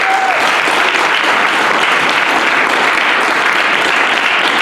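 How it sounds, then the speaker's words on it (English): An audience bursts into loud, sustained applause after a talk by the Indiegogo founder, a thick, continuous roll of clapping that holds steady from start to finish. "let's give a round of applause to Slava here."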